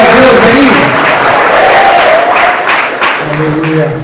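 Church congregation clapping for Jesus, a loud, dense wash of applause and cheering voices that fills the whole stretch, with tonal music or singing underneath and easing slightly toward the end.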